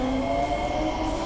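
A Singapore MRT metro train rumbles steadily with a low drone and a faint high whine, a continuous ride noise with no talking.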